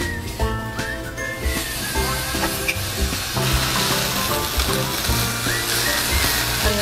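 Thick prime-grade beef steak, freshly cut with evenly marbled fat, sizzles in a hot pan, a steady crackling fry running throughout under background music.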